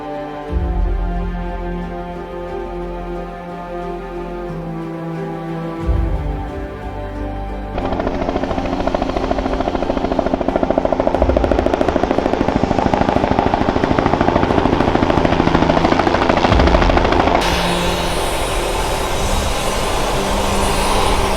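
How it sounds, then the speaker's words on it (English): Loud, continuous helicopter rotor and engine roar during a flight over Iguazu Falls, building in intensity and filling the whole stretch without any voices. "do a very quick helicopter flight over Iguazu Falls"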